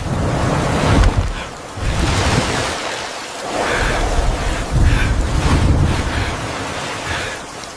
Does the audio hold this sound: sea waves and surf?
yes